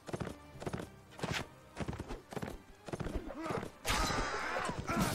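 Horse hooves clip-clop in repeated bursts of quick knocks in the video game Mount&Blade Warband, with a whinny or two and a louder rush of noise near the end.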